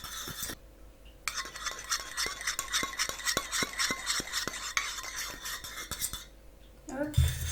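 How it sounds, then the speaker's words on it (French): A small whisk stirs homemade hand sanitizer gel in a bowl, giving steady, rapid metallic clinking and swishing up close, with a short pause near the start and a brief clatter at the end. "je reviens mélanger le tout avec le petit fouet"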